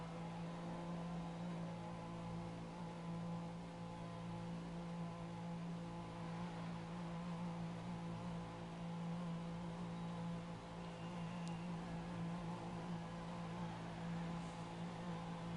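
A racing car engine in a sim racing game pulls into the pit during an online league's Austria Grand Prix, heard as a faint, steady low drone that holds unchanged throughout.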